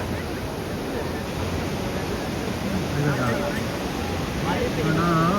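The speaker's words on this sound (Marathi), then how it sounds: "वरून जलधारा कोसळत आहे आणि हा धारेश्वर धबधबा" Dhareshwar waterfall at Marleshwar pours down in a dense, steady roar of rushing water that fills the scene from start to finish, growing slightly louder toward the end, with faint voices mixed into it.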